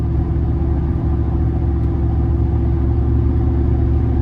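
A 2004 Chevrolet Silverado single cab with a 4.8-liter V8 and aftermarket exhaust cruising steadily, heard from inside as a loud, constant low engine drone and rumble with no speech.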